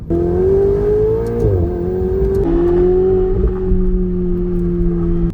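A Ferrari 488 sports car accelerates through canyon roads, its engine note climbing in a loud, close, tonal whine with a brief dip at a gear change before pulling again, steady and without talk.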